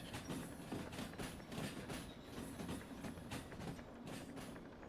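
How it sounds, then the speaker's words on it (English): A train rolls along in the railway sim game Derail Valley, a steady rumbling drone with faint rhythmic clatter from the wheels, continuous and fairly quiet with no voices. "So that's our train right there."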